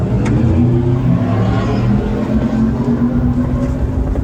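A loud car engine rumbles close by and steadily for several seconds, its low drone holding strong before it starts to pull away.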